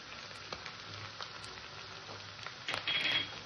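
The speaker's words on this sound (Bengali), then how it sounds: "এটাকে আমি হালকা একটু কষে নেব যাতে কাঁচা গন্ধটা না থাকে।" Ginger, garlic and green chilli paste sizzles gently over lightly fried onions in a pan for aloo dum, with quiet crackling, scattered stirring clicks and a louder scrape near the end.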